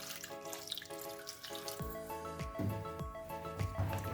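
Water poured into a pan holding yam and raw banana pieces, splashing and trickling steadily, close and fairly quiet.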